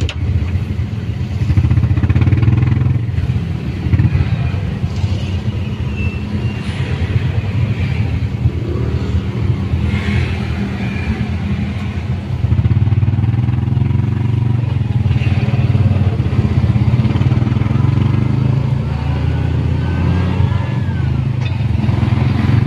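Cars and motorcycles crawl through congested Quezon City traffic, a steady close engine rumble and clatter that runs continuously, easing briefly midway before swelling again.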